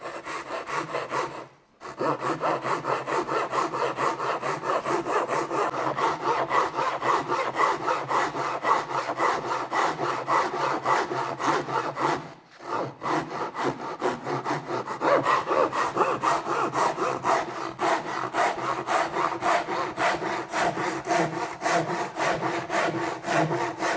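Japanese saw cutting through wood in a woodworking exercise, a long run of steady rhythmic rasping strokes, close and loud, with two brief pauses and no talking.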